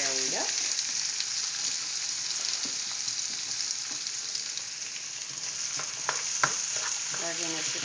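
Holy Trinity vegetables sautéing in hot oil for crawfish étouffée, a loud, steady sizzle and crackle throughout, with occasional stirring scrapes and a faint voice.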